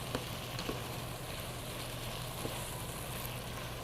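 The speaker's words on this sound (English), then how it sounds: "So I am just browning these squash up a bit." Butternut squash browning in a pan, giving a steady, soft sizzle and crackle of frying with a few faint stirring clicks, continuous and fairly quiet throughout.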